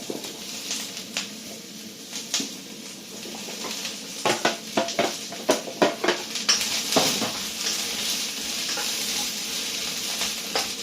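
Mushrooms sizzle in a hot pan, with a steady frying hiss. A burst of stirring scrapes and clatters against the pan runs through the middle, close and loud, with no talking.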